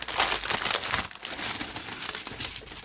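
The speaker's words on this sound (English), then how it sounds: "I need to empty these, so apologies for the crinkling" Plastic bags from a crystal canvas kit crinkle loudly and continuously up close as they are handled and emptied, with busy rustling throughout.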